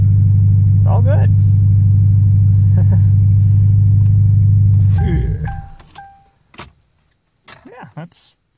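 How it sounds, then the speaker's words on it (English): A car engine idles steadily after a cold start, then shuts off around five seconds in, followed by faint keys jangling and brief voices in the quiet that follows. "Yeah, that's cold start."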